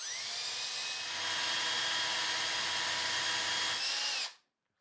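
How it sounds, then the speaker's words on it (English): Cordless power drill boring out a hole in a cabinet door for a handle: one sustained high whine that rises slightly in pitch as the bit bites, then cuts off abruptly near the end. "I'm gonna take my drill now, and I'm gonna place it into the hole"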